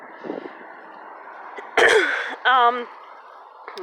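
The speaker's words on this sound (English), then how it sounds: "Pardon my little cough, I just was eating grapefruit and failed." Two short, harsh coughs close to the mic, one after the other, in an otherwise quiet room.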